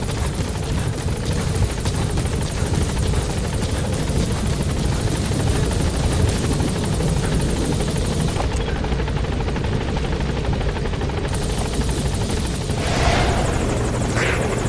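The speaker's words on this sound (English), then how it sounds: "Support helicopter has arrived." The support helicopter in the video game Metal Gear Solid V: The Phantom Pain thrums loudly and continuously, a dense, steady whirring drone that fills the whole stretch without letting up.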